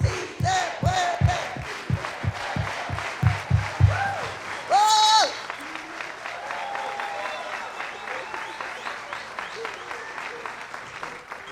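A large crowd at a Delano 50th anniversary rally with Dolores Huerta chants "Sí se puede" in rhythmic unison, backed by clapping and cheering that swells, then settles into looser applause and crowd noise.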